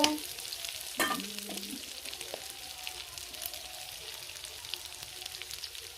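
Onions frying in a pan while being stirred, a soft, steady sizzle with a few clanks and scrapes of a spatula near the start, otherwise quiet and without voices.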